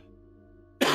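A single sharp cough bursts in at the very end, loud and close after near silence with a faint low background hum from a video game.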